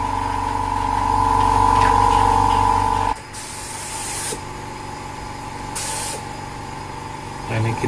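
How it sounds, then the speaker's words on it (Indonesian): A spray gun at 29 pressure lays a thin, even coat of epoxy primer on a car, heard as two loud hissing bursts after a steady mechanical hum cuts off. "Nah, ini kita cat tipis-tipis tapi rata."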